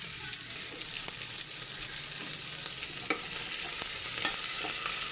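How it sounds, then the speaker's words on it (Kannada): Onion, curry leaves and dry masala with coriander sizzling and being stirred in hot oil for tempering, a steady close frying hiss broken by small crackles and spoon scrapes. "ಇದೆಲ್ಲ ಒಗ್ಗರಣೆ ಹಾಕಿದಂತ ಇದನ್ನ ಗೋಲ್ಡನ್ ಬ್ರೌನ್ ಆಗೋ ಹಾಗೆ ಫ್ರೈ ಮಾಡ್ಕೋಬೇಕು"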